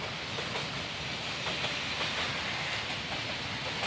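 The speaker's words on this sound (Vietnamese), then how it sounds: "tàu lửa nó chạy." A train runs along a railway track in Biên Hòa near the Tân Vạn line, its steady broadband rumble and rattling wheels filling the whole clip at close range with no speech.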